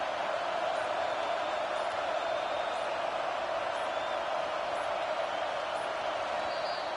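A stadium crowd in an American football video game roars on third down, a dense, steady wall of cheering and noise that holds loud and even throughout.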